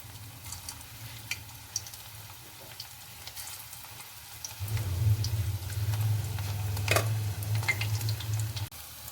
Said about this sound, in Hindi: अब हम इसमें बॉल्स फ्राई होने के लिए डालेंगे।